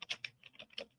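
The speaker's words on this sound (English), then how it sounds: "Just let me go type it." Quick, light keystrokes tap on a computer keyboard, a handful of close clicks in an uneven burst over about a second.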